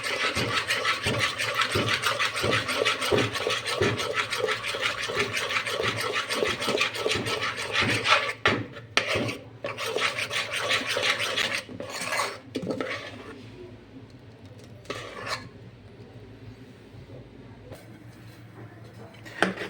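A spoon stirs khaman dhokla batter in a bowl just after baking soda is added, making steady, rhythmic scraping and rubbing strokes up close that slow into a few sparse, quieter scrapes near the end.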